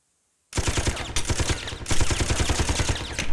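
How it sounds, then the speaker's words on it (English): Machine gun fire in the Persona 3 Portable game, a loud, rapid continuous burst of close gunshots that starts abruptly after a brief silence and runs to the end. "I guess shot away your restraints with her machine guns."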